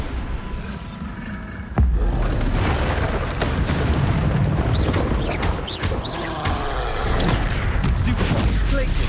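A Bombarda spell in Hogwarts Legacy erupts in a sudden heavy boom near two seconds, followed by a rumbling, crackling wash of blast and debris that stays loud to the end.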